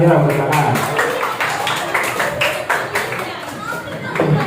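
Children at a health-cadet training session clap their hands in a busy, uneven burst of many hands, close and lively, with kids chattering around it.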